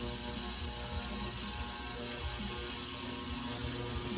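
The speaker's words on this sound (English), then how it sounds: "We'll turn this on to ultrasonic cleaning and let that run." An ultrasonic cleaner runs while cleaning race car fuel injectors, giving off a steady, dense mechanical buzz and rattle that holds even and unbroken throughout, close by with no voices.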